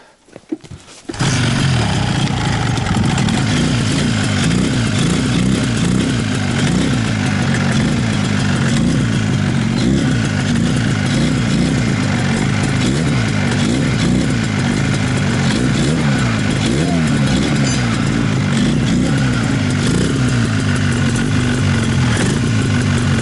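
A Buran snowmobile engine, recently troubled by a frozen vent, catches after a brief crank and settles into a steady, loud, close running drone that continues uninterrupted.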